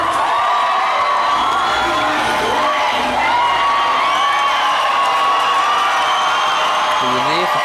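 A large crowd at a concert event cheers and shrieks continuously, high excited voices and whoops blending into a loud, steady roar that stays close throughout.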